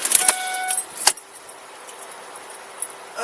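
Car keys jangle in bright metallic bursts at close range, a quick cluster of clinks, then a sharp single jingle, then faint rattles over a quiet car interior, with no talking.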